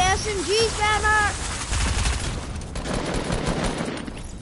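Rapid SMG fire in a Fortnite-style video game: a dense, sustained spray of shots that follows a brief burst of tonal game sounds, continuing steadily to the end at moderate loudness.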